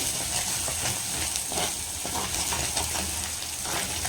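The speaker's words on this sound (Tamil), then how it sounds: "ஸோ இப்போ நல்லா வதங்கிட்டு இருக்குது" Onions and curry leaves sauté in a pan for a butter paneer masala, giving a steady close hiss and sizzle with faint crackles throughout and no voices.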